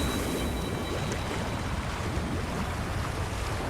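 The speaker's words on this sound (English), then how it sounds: "That's a really big waterfall." A big waterfall in the video game Wuthering Waves gives a steady, dense roar of rushing water that fills the whole clip at an even level, with no talk over it.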